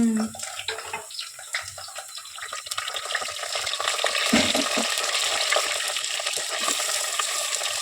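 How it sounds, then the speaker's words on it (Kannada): Stuffed eggplants sizzle in hot oil in a pan, a few scrapes and stirring knocks giving way to a loud, continuous hiss of frying that builds and holds steady. "ಎಣ್ಣೆಗೆ ಹಂಗೆ ಫ್ರೈ ಆಗಲಿ ಒಂದು ಸ್ವಲ್ಪ ಹೊತ್ತು"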